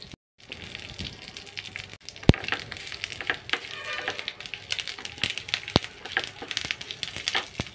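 Curry leaves and chana dal crackle and sizzle in hot oil for a tempering for a raw mango and coconut chutney. A steady, close spatter carries sharp pops and occasional spoon scrapes as the mix is stirred, with no talking.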